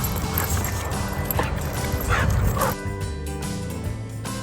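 Puppies rescued from the street, part of a litter of eight, bark and yip playfully at close range in a busy, continuous run of overlapping yaps and a few whimpers.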